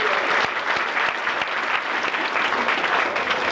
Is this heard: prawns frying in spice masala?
no